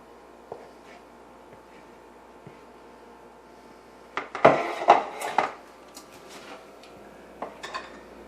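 A spatula scraping muffin batter into metal muffin cups for low-carb Denver muffins, giving a cluster of clinks and scrapes in the middle with faint taps before and after.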